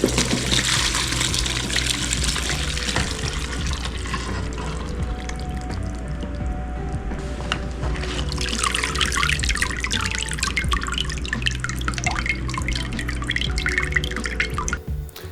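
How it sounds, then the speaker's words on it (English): Beef short rib braising liquid pours and drips through a strainer in a steady, close watery trickle with intermittent drips, running continuously without talk. "I've strained the braising liquid and returned the braising liquid to the heat"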